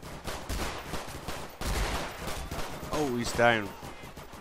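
Gunfire in Garry's Mod during a cops versus robbers NPC battle: rapid broadband shot bursts running steadily through the clip, with excited voices talking over the shooting.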